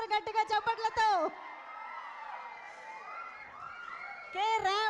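At a film's blockbuster celebration event, a crowd cheers, whoops and applauds for Bandla Ganesh, a sustained roar of mixed shouts between bursts of an announcer's loud amplified voice.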